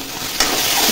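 Masala being stirred in a pan after pizza sauce and tomato sauce were added gives a brief, close scraping sizzle that swells partway through.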